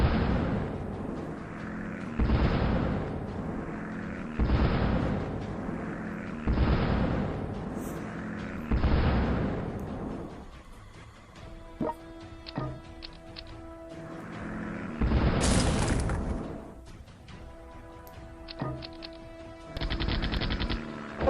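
Explosions and rapid gunfire from bombing raids in a World War II strategy game set in 1943, coming as repeated loud bursts roughly every two seconds with a busier crackle of smaller blasts in the middle.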